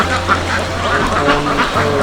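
A flock of ducks held inside a fenced enclosure on a duck farm of about 1500 birds quacks continuously and loudly close by, over a steady low hum.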